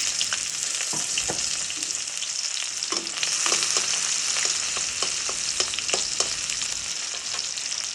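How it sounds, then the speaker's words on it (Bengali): Onions dropped into hot oil for a Bengali prawn and Malabar spinach dish, giving a steady close sizzle and crackle throughout with scattered sharp pops and spatters. "তেলের মধ্যে পেঁয়াজ দিয়ে দিলাম।"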